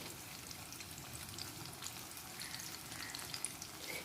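Chicken pakoda deep frying in hot oil gives a steady, fairly quiet crackling sizzle that continues without a break, with no voices.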